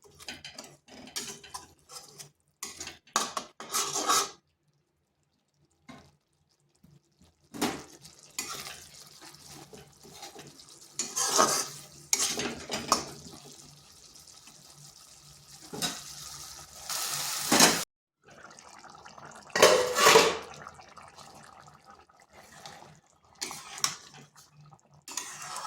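Spice masala with cashews being stirred in a pan for potato and pointed gourd curry, with intermittent scraping and clattering stirring strokes separated by short quiet gaps.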